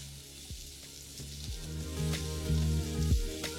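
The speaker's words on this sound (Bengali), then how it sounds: "আর তারপর এটাকে লো টু মিডিয়াম ফ্লেমে ভাজতে থাকবো।" Onion and capsicum fry in melted butter over a low to medium flame, giving a soft, steady sizzle with scattered small pops and crackles, close by and fairly quiet.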